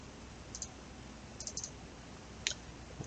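A computer mouse clicking in a quiet room, with a few faint, sharp single and double clicks spaced irregularly.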